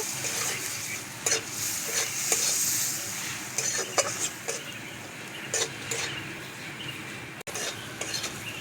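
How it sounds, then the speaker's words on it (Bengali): Spice paste sizzles in a pan while being fried for a bitter gourd curry, with a steady crackling hiss and scattered stirring scrapes and taps close by, no talking. "মশলাটাকে একটু ভেজে নেব।"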